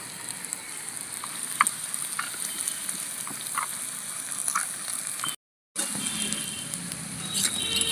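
Potatoes fry in a pan with a continuous soft sizzle and occasional light crackles and pops, broken by a brief total dropout before the frying noise resumes.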